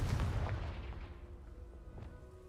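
A Confringo fire spell blast in the video game Hogwarts Legacy, a single booming explosive burst that rumbles and fades away over a couple of seconds.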